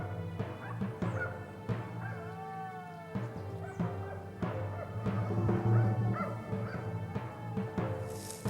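Hunting dogs barking on a wild boar driven hunt in high mountain forest, repeated distant yips and barks scattered throughout over a steady background drone, no talk.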